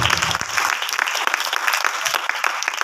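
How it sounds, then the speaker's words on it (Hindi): A church congregation at a pastor's meeting in Rajnandgaon claps in praise, a dense, steady burst of many hands applauding close by. "ताली बजाकर प्रभु का धन्यवाद करें, तारीफ करें"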